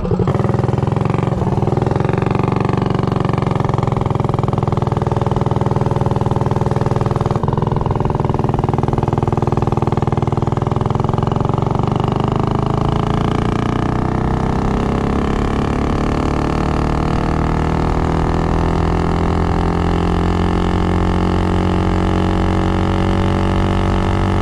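Tillotson 212 engine on a Baja racer minibike fitted with an 18 tooth clutch, roaring loud and close for the whole stretch, pitch climbing steadily as it accelerates and holds a high, continuous drone.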